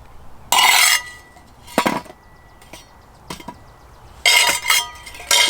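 A metal shovel scrapes and drops hot charcoal coals onto the lid of a cast iron skillet sitting on coals. Several close, harsh bursts of scraping and clinking are separated by quieter gaps, with no talking.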